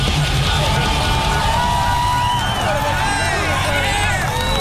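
Crowd at a Formula Drift event in New Jersey cheering and yelling steadily throughout, a dense wash of voices with whoops rising over continuous hubbub.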